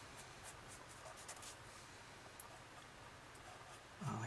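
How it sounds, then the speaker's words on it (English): A pencil sketching a circle on paper makes a faint, continuous soft scratching with small irregular ticks, steady and close in a quiet room. "I'm just going to start sketching in"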